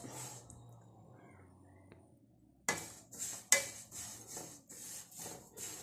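Sesame seeds are stirred in a hot pan, giving a faint rasping scrape that turns into a regular series of louder rubbing strokes after a quiet opening.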